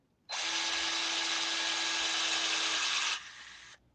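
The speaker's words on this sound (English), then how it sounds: "So I'm gonna drill it in" A power drill whines at steady speed for about three seconds while boring a dowel hole, then drops in pitch briefly before stopping, heard close and alone.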